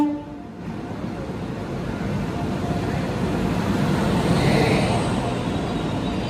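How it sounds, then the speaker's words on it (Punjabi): The Sachkhand Express pulling into a station: a brief tone at the start, then a broad rumble and rushing noise that builds steadily louder as the train approaches and peaks near the end. "ਇਧਰ ਆ ਗਈ ਟ੍ਰੇਨ ਵੀ ਆ ਜਾ ਆ ਜਾ ਬਹੁਤ ਡੀਕਿਆ ਤੈਨੂੰ ਇਹ ਸੱਚਖੰਡ ਐਕਸਪ੍ਰੈਸ ਆ"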